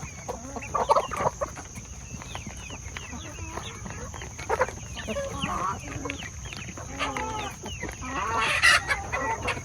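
Backyard chickens clucking and calling at their coop, a steady overlapping chatter of several birds at close to moderate distance with a louder burst near the end.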